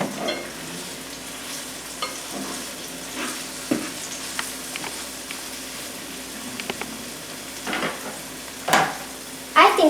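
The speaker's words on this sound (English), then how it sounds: "you can start making it scrambled by cutting it and mixing it." Scrambled eggs fry and sizzle in a pan while a utensil stirs and scrapes through them, with a steady close hiss broken by irregular scraping strokes that grow louder near the end.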